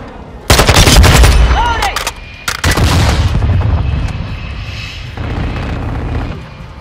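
Loud, rapid automatic gunfire in Call of Duty: Modern Warfare II multiplayer, sustained bursts cut by a short gap, with a rising whistle and booming impacts during the firefight.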